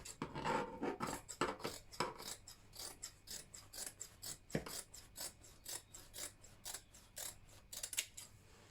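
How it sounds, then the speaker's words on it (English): Scissors cut out a fabric flare pattern piece, making quiet, close, rhythmic snips about twice a second, each blade closure crisp and short, with no one speaking. "I'm going to be cutting out exactly the same thing"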